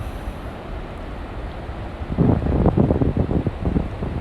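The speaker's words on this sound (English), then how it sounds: "that's the sound of the beautiful nature of the rolling water" River rapids roll and churn continuously, a dense broadband roar that swells louder partway through, with no voices.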